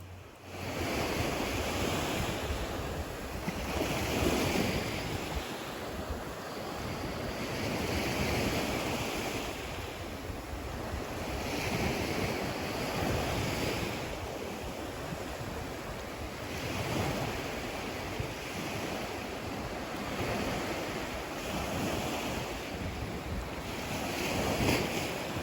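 Low-tide surf at Tigertail Beach on Marco Island rolls in as a steady, close wash of breaking waves, with gusts of wind buffeting the microphone throughout and no voices.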